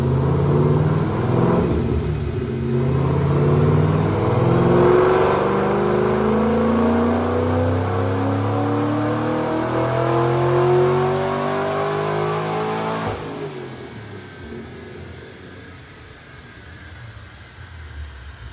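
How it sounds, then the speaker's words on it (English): A 2005 Mustang 3V with a Paxton Novi 2200 intercooled supercharger, FRPP manifold and cams, doing a pull on a dyno, a loud, rising engine roar with supercharger whine that climbs for about thirteen seconds, then drops off to a lower idle. "Check out this dyno pull."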